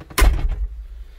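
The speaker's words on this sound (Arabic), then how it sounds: "سكر الباب" The cab door of an 8-ton forklift swings shut with one heavy, close thunk, followed by a short rumbling decay.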